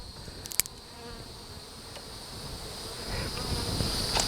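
A soft, steady hum of honey bees inside a newly split hive with capped queen cells, low and close, swelling slightly toward the end after a few brief knocks.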